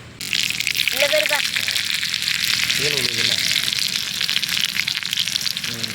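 Onions and curry leaves fry in hot oil for a chicken gravy, giving a steady loud sizzle throughout with a few brief voice-like sounds over it.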